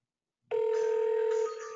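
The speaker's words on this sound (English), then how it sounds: "So this will call my cell phone right now, and you probably will hear it ring." A cell phone rings from an incoming Google Voice call, starting abruptly after silence as a loud, steady electronic tone held for about a second, then continuing slightly softer.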